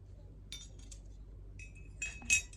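Glass and stainless steel cutlery (glasses, spoons, forks) clink lightly a few times against a quiet background, with a sharper ring near the end.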